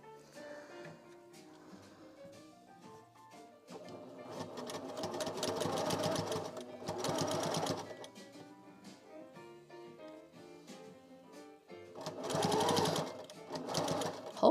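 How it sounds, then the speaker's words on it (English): A sewing machine stitches a fabric plushie, its rapid needle chatter rising in several close, loud bursts with quieter pauses between runs. "we're going to start sewing"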